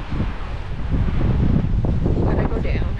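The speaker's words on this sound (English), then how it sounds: "It's very windy and very cold." Strong wind blows on a nature trail in Chiricahua National Monument and buffets the microphone. The rush is loud and continuous, with low rumbling gusts.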